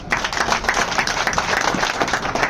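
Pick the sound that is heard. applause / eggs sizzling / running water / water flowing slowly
applause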